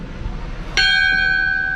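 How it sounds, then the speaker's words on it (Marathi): A large bell at the Shri Nath Nange Maharaj samadhi temple in Davha is struck once, loud and near, and its bright metallic tone rings on steadily after the hit over soft background noise. "एक भली मोठी घंटा आहे इकडे"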